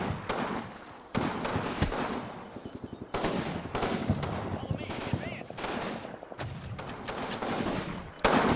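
Battle noise from the game Combat Mission Rome to Victory: an infantry gun and small arms fire in repeated sharp loud bursts, with rattling volleys and booms packed across the scene.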